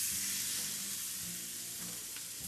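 Beef steak frying in a pan at home, oil brushed onto the meat rather than the pan, gives off a steady close sizzle with soft crackles throughout, no voices.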